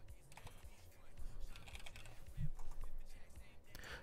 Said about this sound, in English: Here, I'm gonna type out a raid message.